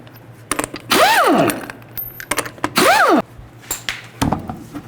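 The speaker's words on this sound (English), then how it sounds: "use a 19mm socket, take the lug nuts off." Lug nuts coming off a 2006–2010 Mercury Mountaineer wheel with a 19mm socket on a power tool, two rising-then-falling whirring bursts about two seconds apart, with clicks and clatter around them.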